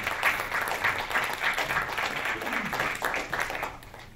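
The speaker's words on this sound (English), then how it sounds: "please give Mike a rousing round of applause and welcome him to the podium." A crowd applauds steadily, a dense wash of clapping that continues throughout at moderate volume with no break.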